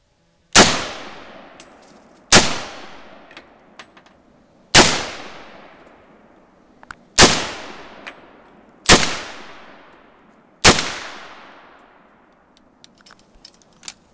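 Six loud gunshots are fired one at a time outdoors, each a sharp crack with a ringing decay, spaced roughly two seconds apart.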